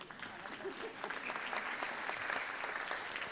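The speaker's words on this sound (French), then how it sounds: "Vous avez le droit de vous applaudir, je le prendrai bien." Audience applause at a closing speech, a dense even patter of many hands clapping, sustained at moderate volume from a crowd in a room.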